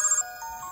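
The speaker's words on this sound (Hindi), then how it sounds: "फोन बज रहा है, उसी का होगा।" A phone ringtone plays a short melodic electronic phrase, loud and close, heard alone.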